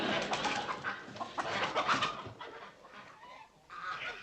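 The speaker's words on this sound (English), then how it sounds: "Just some chickens cackling in the lobby" Several chickens cluck and cackle together in a hotel lobby in a busy, overlapping chorus, fairly close and moderately loud.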